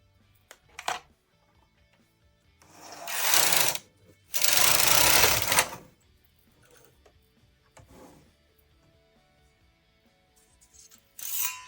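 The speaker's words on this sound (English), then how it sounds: "I'm just gonna make my first zigzag row." A Brother KH 260 knitting machine carriage with ribber is pushed across a row, giving two loud rasping sweeps mid-clip amid shorter clacks and knocks, then quiet between.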